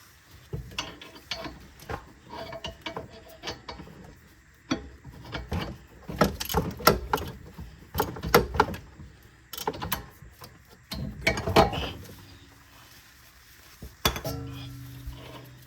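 Wrenching loose a bolt on a 2017 Toyota Prius Prime rear shock, with bursts of metallic ratchet clicks, clanks and tool rattles at irregular intervals, close and fairly loud, plus a few quieter gaps.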